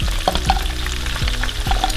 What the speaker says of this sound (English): Once I have the sizzling going, the next thing I like to put in now is actually the snails.